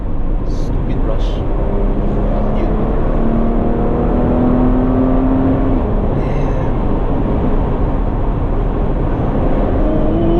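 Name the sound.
Porsche Cayenne S engine accelerating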